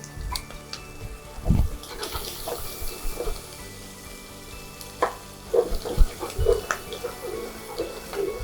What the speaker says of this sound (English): I'm also adding my garlic. I'm adding the garlic later so it doesn't get burnt.